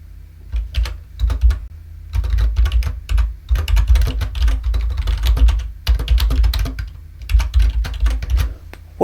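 Steady typing on a computer keyboard while entering Python code, with quick close clicking keystrokes in bursts separated by short pauses, no talking.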